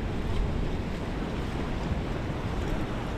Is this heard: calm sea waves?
yes